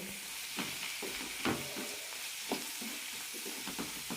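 Ash gourd pieces sautéing with salt in a pan for chutney give a steady, moderate sizzle, with scattered clinks and scrapes of a spoon stirring through it and no talking.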